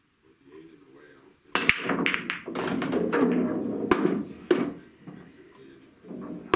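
Pool balls on a racked billiard table crack apart on a break shot: a few sharp clacks and knocks scattered through the clip, with a voice talking beneath and between the hits.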